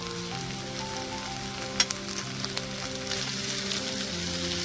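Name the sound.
ivy gourd (dondakaya) curry frying in pan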